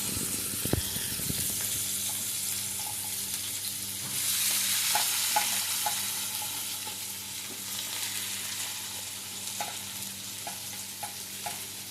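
Onions go into hot oil in a pan for a paneer gravy, a soft continuous sizzle with stirring scrapes and a few light clinks, fairly quiet and steady with no talk.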